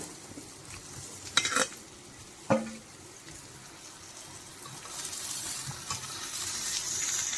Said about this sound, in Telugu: ఇవి ఇలా పైకి కిందకి ఆయిల్ పట్టేదాకా వేయించుకోవాలి